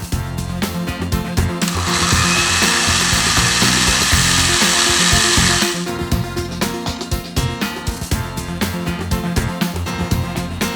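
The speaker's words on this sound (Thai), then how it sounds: "เอาเข้าเครื่องปั่นได้เลย" A loud electric blender whirs at high speed for about four seconds, then cuts off, surrounded by sharp clattering and knocking noises, while preparing northern Thai Hang Le curry.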